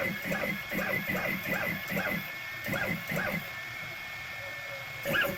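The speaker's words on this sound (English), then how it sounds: "Jog the direction button to move the bit to the working origin." An AnoleX 3030-Evo Max CNC router jogging its bit, producing repeated short whirring stepper-motor bursts in a steady rhythm at close range, with one more burst at the end.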